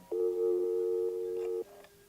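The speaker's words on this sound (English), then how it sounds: "Mrs. Crane lifts the phone and dials." A telephone tone sounds as one steady, loud electronic note lasting about a second and a half, followed by a brief quieter tone, with no voices.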